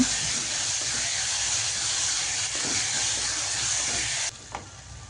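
Chopped tomatoes with ginger-garlic paste sauté in a pan, giving a steady loud hiss and sizzle throughout, with a faint utensil tap near the end.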